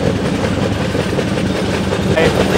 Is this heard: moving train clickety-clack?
yes